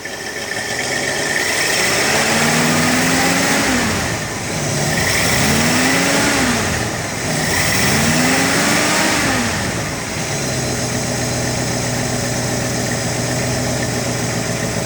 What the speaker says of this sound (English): I'll give it a little gas so you can hear it run